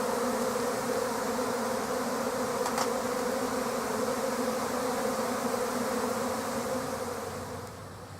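A honeybee swarm drones in a dense, continuous buzz close around the listener outdoors, steady for several seconds and fading slightly at the end.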